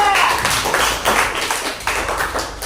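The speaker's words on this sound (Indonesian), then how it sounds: "tepuk tangan untuk kelompok 2" Classroom applause for a student group, with a short burst of brisk clapping at close range.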